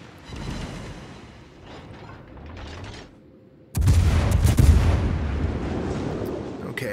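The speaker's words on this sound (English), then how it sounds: "I put shots out on the Normandy, who's broadside on." Warship main battery salvo in a naval battle game, with a dull rumbling boom, a short lull, then a loud broadside blast at about 4 s that rolls on as sustained heavy rumble.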